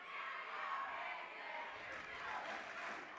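Crowds at a tied Vermont Division 3 girls' high school basketball playdown game, Hazen versus Fairfax, roar steadily during a full timeout, a distant sustained cheer heard faintly throughout.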